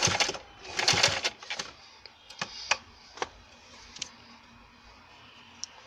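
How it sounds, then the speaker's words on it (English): A sewing machine stitches bias piping in short bursts of rapid mechanical chatter, loudest at the start and then thinning into scattered clicks and taps, close and alone without talk. "go to sewing machine and start from here, stitch and stitch till end"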